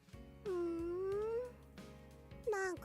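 A pet cat meows in several drawn-out, rising-and-falling calls, fairly close and clear, with a short gap before a final shorter meow; a steady low hum sits underneath.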